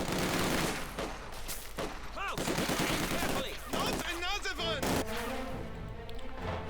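Rapid MG-42 machine gun bursts mix with heavy gunfire and explosions in the World War II strategy game Company of Heroes 2, loud and continuous, with a commentator talking over the battle.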